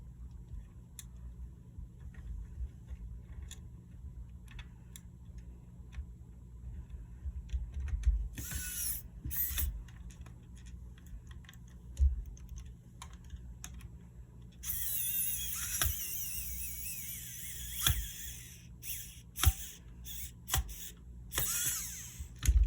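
Small screws are backed out of a Game Boy Advance case with a screwdriver, making faint close creaks and ticks, with a few brief sharper scraping bursts of plastic and metal, quiet and without talk.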